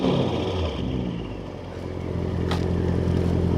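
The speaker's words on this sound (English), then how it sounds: "give you guys a sound bite of what it sounds like. I think I need to do some revs here." A motorcycle with a loud aftermarket exhaust revs up close, a steady deep engine roar that dips briefly and then swells again, with a sharp burst partway through and no talking.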